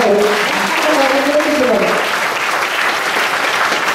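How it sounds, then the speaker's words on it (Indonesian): An audience at a Buddhist temple talk bursts into sustained, even applause, loud and near, while a voice speaks briefly over the clapping at the start. "Tepuk tangan."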